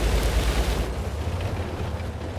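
Boom from an LEF tank gun in a tank battle game, a loud low blast that fades into a rumbling tail.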